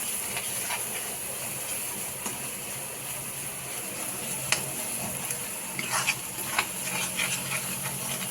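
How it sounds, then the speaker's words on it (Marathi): Pav bhaji vegetables mixed with masalas in a hot pan give a continuous sizzling hiss with occasional scraping and clinking stirs, steady and fairly close. "आपण आता याच्यात छान मिक्स करून घ्यायचं"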